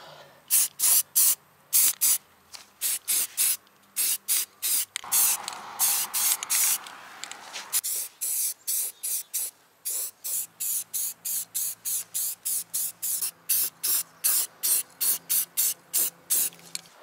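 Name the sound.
spray painting truck parts black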